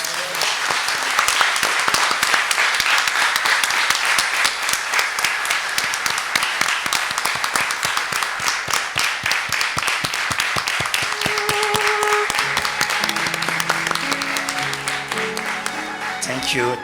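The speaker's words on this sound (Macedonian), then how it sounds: "ајде уште еден огромен аплауз" Loud, sustained applause from a large audience at an author talk fills the whole stretch, dense clapping that eases slightly toward the end as a few tones emerge.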